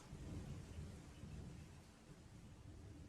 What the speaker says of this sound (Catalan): Trons i llamps enfadats.